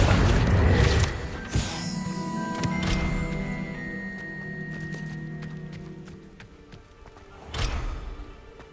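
Confringo spell explosion in Hogwarts Legacy, a booming blast up front followed by whooshing, metallic mechanism clanks and ringing tones that fade away, then another thump near the end.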